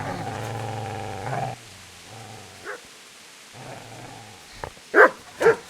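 Dog in the medieval game Kingdom Come Deliverance growling low and steadily, then a pause, followed by a few sharp close barks near the end, heard alone without talk.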